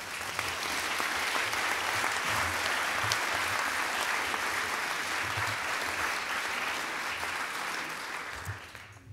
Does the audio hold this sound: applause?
yes